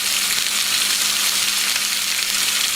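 A top sirloin steak sears in a hot cast iron skillet, giving a steady, close, loud sizzle of frying fat with no voices.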